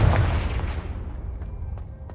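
A Confringo blasting spell explodes in Hogwarts Legacy, a deep close boom that rolls off into a fading rumble with a few faint crackles.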